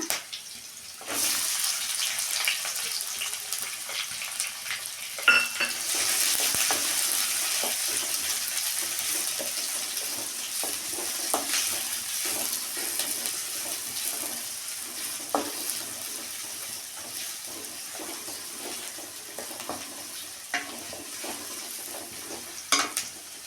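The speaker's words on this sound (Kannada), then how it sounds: "ಸಾಸಿವೆ, ಕಡಲೆಬೇಳೆ, ಉದ್ದಿನಬೇಳೆ, ಮೆಣಸಿನ್ಕಾಯಿ ಫ್ರೈ ಮಾಡ್ತಾಯಿದ್ದೀನಿ" Mustard seeds, chana dal, urad dal and chillies frying in hot oil in a pan, a steady close sizzle with a bright hiss and scattered small pops and stirring clinks, continuing alone without talk.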